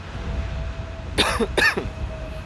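Two short, close coughs in quick succession at Amsterdam Airport, over a low steady background rumble.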